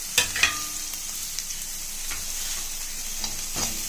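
Green chilli, curry leaves, coriander and cumin sizzle as they temper in hot oil, a steady close crackle with a few sharp pops and light stirring clinks near the start.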